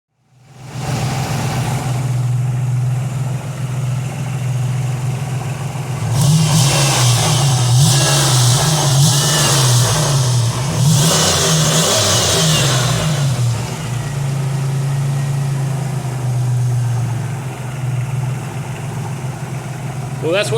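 A 1994 Oldsmobile Cutlass Supreme Convertible engine idles steadily, then revs up in several rising bursts before settling back to a loud, continuous idle close by.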